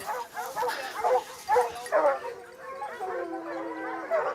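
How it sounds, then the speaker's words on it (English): A pack of hunting dogs on a wild boar hunt in France gives excited yelps, whines and barks in bursts at moderate distance, with a voice speaking over them. "des chiens qui se récrient un petit peu"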